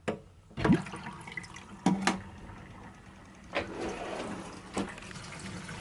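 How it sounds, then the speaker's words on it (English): Sink water drains through newly installed plumbing in a converted school bus, heard as gurgles and splashy bursts of running water that come and go over several seconds, with quiet moments between surges. "Okay, I'm releasing the sink water."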